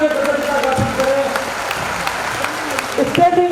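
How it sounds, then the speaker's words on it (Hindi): An audience applauds a speaker in sustained, even clapping across a hall. Amplified tones and a little talk sit underneath. "आइए एक बार आपकी प्रति कृतज्ञता ज्ञापित करने के लिए हम तालियों का महोत्सव मना करके कृतज्ञता ज्ञापित करें।"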